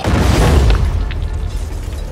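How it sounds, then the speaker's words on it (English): A loud explosion in Dying Light 2 booms heavily in the first second, then its rumbling tail fades slowly under a dense, noisy in-game background. "What's exploding?"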